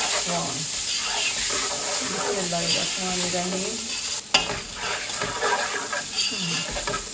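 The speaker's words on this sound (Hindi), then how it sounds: "चलेंगे हम थोड़ा फ्राई करते हैं" Chopped medium onions frying in a pan, a steady crackling sizzle with stirring scrapes and a sharp clatter partway through.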